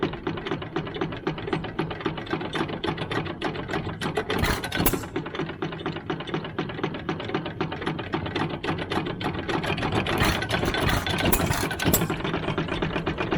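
A 1914 Sandow line engine, an old stationary farm engine with a detent arm holding the valve open, chugs close by with a rapid, steady mechanical clatter and clicking beat, running alone without talk.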